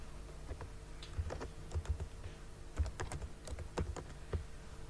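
A computer keyboard is typed on in quick irregular bursts of close, light clicks during account setup, with a faint steady hum underneath and no talk.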